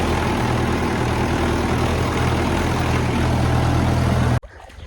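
A tractor engine running at a steady, rumbling idle close by, droning evenly for several seconds before cutting off abruptly into near silence.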